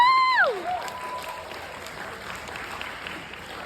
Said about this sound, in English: Like, that is something to clap for. Please applaud.